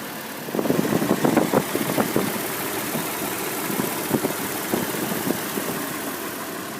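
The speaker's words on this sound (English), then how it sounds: "Now the 4Runner SR5 does come equipped with a 4-liter V6, double overhead cam" A 2019 Toyota 4Runner SR5 with a 4-liter V6 idles at a stop sign, a steady mid-pitched engine hum with faint vibration running throughout.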